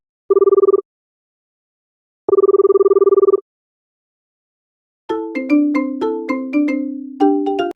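An incoming call sets a phone ringing: two bursts of a steady electronic ring, then a brighter melodic ringtone that plays a rising and falling pattern of tones, close and clear with no talking.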